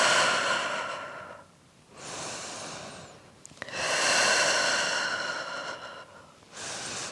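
Slow, audible breaths during a beginner Pilates core workout: long airy exhales alternate with shorter inhales in a steady rhythm, close and moderately loud, with no talking.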